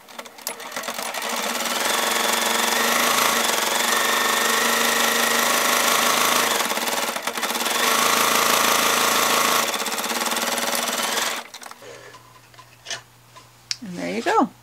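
A sewing machine stitches a straight half-inch seam with backstitching on fabric for a rice heating pad, running in two long, loud, close rattling bursts separated by a brief pause. A voice speaks after the machine stops.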